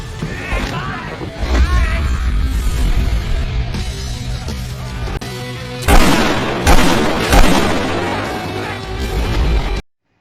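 Gunfire and explosions from an action-film fight inside a heavily guarded hotel: a dense, loud barrage of booms and bursts over a low rumble, with several sharper blasts near the end before it cuts off abruptly, under faint background voices.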